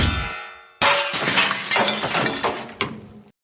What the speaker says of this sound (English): Watching you split a bell in 2 with a sword never gets old